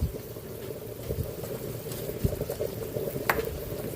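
Chicken tinola broth bubbling in a covered pot, a steady low simmer with small pops and gurgles throughout, fairly quiet and alone.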